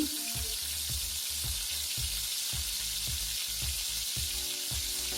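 Onions sizzle and fry in hot oil in a pan for a Kannada-style mushroom gravy, a steady crackling hiss with soft rhythmic stirring thumps, close and fairly quiet, with no talking.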